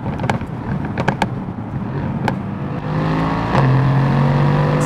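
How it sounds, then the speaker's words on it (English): Mercedes-AMG GT Roadster V8 engine revving, then building into a rising, steady acceleration roar, with scattered wind buffeting and clicks early on. "It's a really strong engine."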